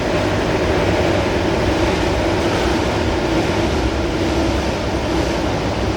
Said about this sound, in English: Train, bro. For the second time.